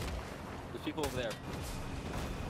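Gunfire from a Fortnite match, a few dull cracking shots over a steady busy game background with speech on top, moderately distant and partly masked by talking.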